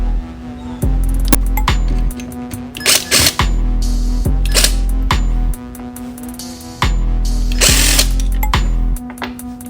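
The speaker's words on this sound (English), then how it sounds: "So right now we are going to remove these 3 screws right here." A power tool works at the throttle body screws of a Toyota 1JZ-GTE engine, running in several loud steady bursts broken by short clicks and metallic clinks between each run.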